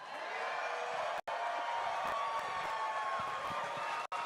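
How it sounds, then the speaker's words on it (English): A large crowd cheers and whoops at a Firefly Blue Ghost moon landing event, a continuous roar of voices, broken only by two brief instants of silence. "Can we get another cheer from the crowd?"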